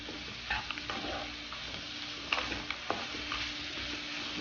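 Dragon chicken frying in sauce over high flame, a steady sizzle with several sharp clinks and scrapes of a spatula stirring through it.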